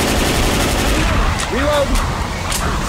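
Rapid gunfire in Left 4 Dead 2 during a rainy level, a dense continuous rattle of shots under a steady noisy background, with a brief voice.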